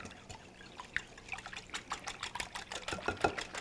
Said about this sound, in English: we'll give this a nice whisk